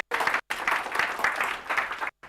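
An audience at a Google I/O Extended tech meetup in Kuala Lumpur claps after a live demo, a short burst of applause that breaks off briefly at the start and end.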